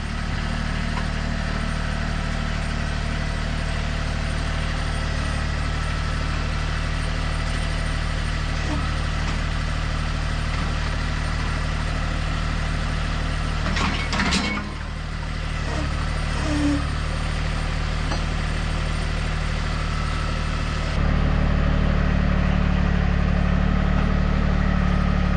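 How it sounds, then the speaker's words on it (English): A tractor engine runs steadily, moving around to hitch a box plate: a constant low idle drone with a strong hum, a short mechanical clatter midway, then a louder, rougher engine note near the end. "so I'm going to get the tractor come around."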